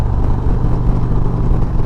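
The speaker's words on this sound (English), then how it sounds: "hear that amazing exhaust note. It sounds so stinking good" A 2026 Indian Springfield Dark Horse motorcycle runs up through the gears with a loud, close exhaust roar that holds steady for a moment, with no voices.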